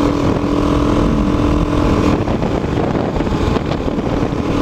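A Beta 390 RR-S dual sport dirt bike engine drones loud and steady while riding, heavily mixed with wind buffeting on the microphone.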